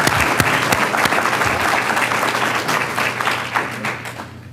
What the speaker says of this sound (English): I want to give a round of applause to our partners at Armstrong, Doyle, and Carroll